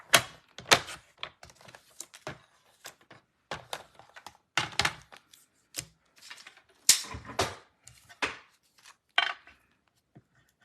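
Designer paper being cut at a craft table with a paper trimmer: a series of sharp, close clacks and thunks in uneven bursts, separated by short quiet gaps, with no voices.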